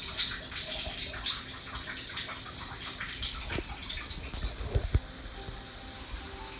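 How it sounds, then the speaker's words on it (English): Septic system pump draining water, a steady moderate rush and gurgle of flowing water with a few clanks and drips near the end. "keep the pump going and see if we can get this drained out"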